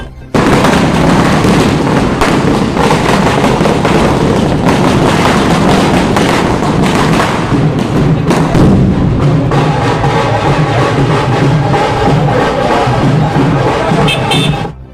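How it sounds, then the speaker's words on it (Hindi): Fireworks at a celebration for the restored ancient Hanuman temple by Malsay pond in Kushalpur, Raipur, crackling and popping densely and loudly without pause over a steady crowd roar. "उनके पहुँचते ही ये आतिशबाजी शुरू हो जाएगी।"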